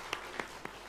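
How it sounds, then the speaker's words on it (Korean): A church congregation gathered for an Easter service claps to welcome guests, a brief scatter of loose, fairly soft handclaps heard from a distance. "우리 박수로 환영하겠습니다"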